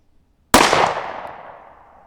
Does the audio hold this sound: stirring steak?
no